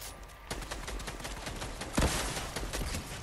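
Rapid bursts of gunfire crackle through a final-circle fight in a battle royale video game, with a sharper heavy volley partway through over steady background game noise.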